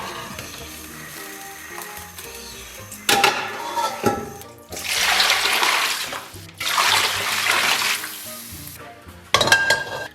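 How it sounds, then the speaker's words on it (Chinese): Cold tap water runs over a pork elbow being rinsed in a kitchen, coming in several loud, splashing bursts of a few seconds each with brief pauses between, over a faint tonal background and no talking. "咱们把肘子捞出，给它冷水洗净"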